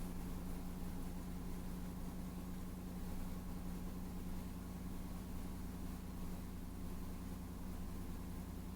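A cold Land Rover engine idling, a steady low drone with a constant hum and even mechanical texture, no talk, heard closely and unchanging throughout.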